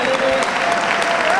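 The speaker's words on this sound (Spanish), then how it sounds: "Reciben por la ovación del público que se ha volcado con este reconocimiento a Juan Reyes." Sustained, dense applause from a large crowd at a Canarian wrestling final between U.Sur Yaiza and U.Norte, steady and loud throughout, with a faint voice talking over it.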